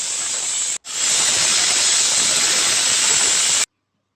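A pressure cooker cooking tomato bath lets out a loud, steady steam whistle with a brief break near the start, then stops abruptly.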